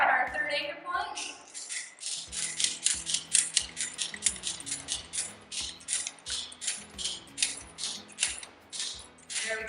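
A ratchet strap is cranked tight on a tree tent anchor point: a long, fast, evenly paced run of close metallic clicks from the pawl, with a voice talking at times.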